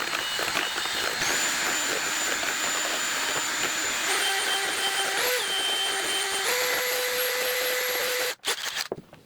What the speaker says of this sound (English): I'm going to take my drill, start at a low speed.